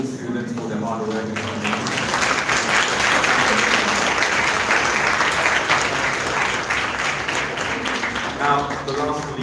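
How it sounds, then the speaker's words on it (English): Sustained audience applause for students at a closing ceremony of an international health symposium, steady dense clapping from a large crowd lasting the whole stretch, with some voices mixed in. "another huge round of applause for all the students for their hard work"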